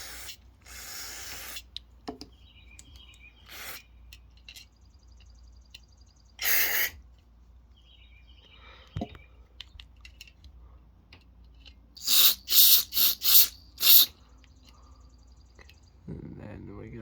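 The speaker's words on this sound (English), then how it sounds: "we'll just keep spraying" Several short hissing bursts of cleaner sprayed on Honda-style push mower carburetor parts, a few scattered early on and a quick cluster of four near the end, with quiet clicks and handling noises between.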